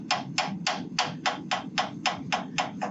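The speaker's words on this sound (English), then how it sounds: "That's Wayne Lappley working on hammering out that hole" Hammer blows on a hot rivet at a forge during a spring work weekend, about eleven sharp, evenly paced metallic strikes close by at a steady rhythm, with no voices.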